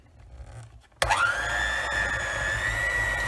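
An electric mixer starts abruptly and whirs loudly and steadily, beating chocolate mud cake batter with cream cheese in a bowl, after a quiet moment of faint rustling.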